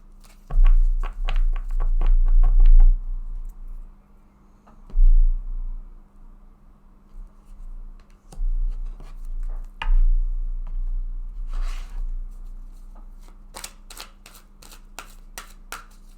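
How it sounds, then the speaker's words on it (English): Cards drawn from oracle decks, with bursts of shuffling and riffling, soft slides and taps in uneven clusters, close and fairly loud against a quiet room. "I just want to take a card from each of these oracle decks"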